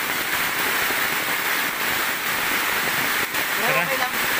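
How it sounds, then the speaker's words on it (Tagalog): Heavy rain pours while a strong current of water rushes past, a dense, loud, continuous wash of noise with brief voices and a faint whistle-like sound near the end. "Biglang lumakas yung ulan ah. At saka lumakas yung agos oh."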